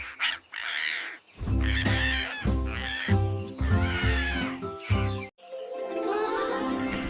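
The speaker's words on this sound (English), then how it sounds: "Parrot flies and says squawk." Loud, harsh squawks from a parrot come in several close, raspy calls separated by brief pauses, heard alone without talk.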